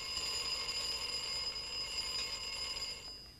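A continuous electronic alarm tone rings steadily at a moderate level, sustained without breaks until it cuts off near the end.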